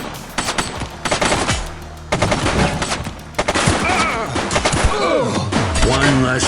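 Repeated gunshots and rapid automatic fire in a police video game, loud close bursts broken by short pauses, with a voice calling out over the shooting.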